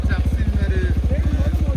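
A tractor engine runs close by with a steady, fast, chugging low throb that holds evenly throughout, and faint voices can be heard beneath it.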